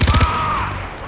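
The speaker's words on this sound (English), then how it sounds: "Let's try out this flamethrower." A flamethrower fires in the game Far Cry 4 with a few quick thumping pulses, then a loud, steady, close roaring whoosh that fades slightly toward the end.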